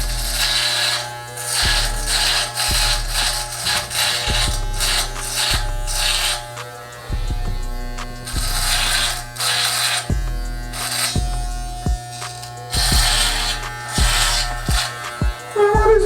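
Electric hair clippers buzzing loud and close while cleaning up a bald fade haircut, running in repeated strokes that switch on and off with a steady motor hum between passes.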